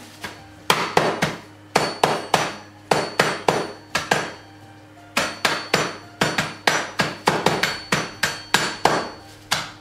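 Repeated hard hammer blows crush peppermint candy in quick bursts of three to five, sharp cracking thwacks separated by short pauses, close and loud.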